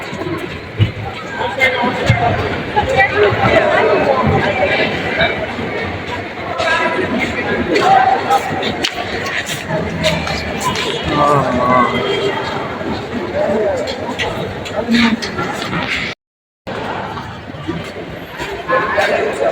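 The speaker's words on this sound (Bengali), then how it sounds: "এই হলো কমলাপুর রেলওয়ে স্টেশন।" Dense crowd babble fills the Kamalapur railway station concourse, a steady wash of overlapping voices and footsteps with occasional nearby chatter, continuous throughout apart from one brief dropout.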